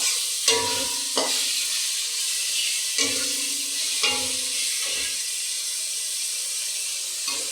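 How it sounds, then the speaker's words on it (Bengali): Spices and coriander leaves fry in a pan for a chicken dish, a continuous close sizzle broken by several sharp knocks and scrapes of a spoon stirring at irregular intervals. "দেখো মশলাটা আমার ভাজা হচ্ছে।"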